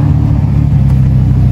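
A Lamborghini Huracan STO on a Monaco street, its engine a loud, steady low rumble close by for a moment, with no voices over it.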